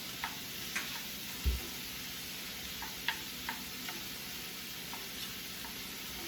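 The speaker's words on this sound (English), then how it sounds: "just going to keep sauteing this down until the mushrooms are soft" Mushrooms sauteing in a pan with garlic for stuffed portobellos, a steady soft sizzle running throughout with scattered light ticks and one louder knock of a utensil against the pan, no talking.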